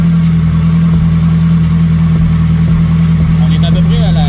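A car engine idles loudly and steadily up close during ignition timing adjustment, a constant low rumble with a faint higher whine creeping in near the end.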